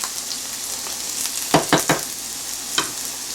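Onions sautéing in a pan with a faint steady sizzle underneath and a few sharp spoon-against-pan scrapes of stirring clustered near the middle, then one more knock shortly after.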